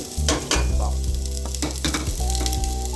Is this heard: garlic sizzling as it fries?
yes